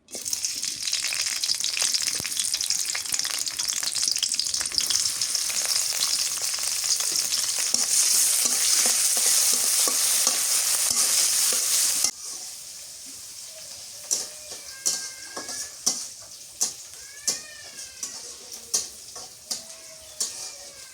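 Green chilies and onion hit hot oil in a pan, giving a loud steady sizzle that drops abruptly to a softer crackle, followed by rhythmic stirring scrapes.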